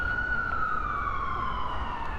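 An ambulance siren wails along a New York City street, its steady tone slowly falling in pitch as it passes, loud and close over low traffic rumble.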